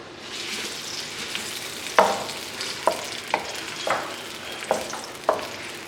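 Finely chopped medium onion frying in half a cup of oil, a close, steady hiss broken every second or so by sharp spatula scrapes and stirs against the pan, with no voices.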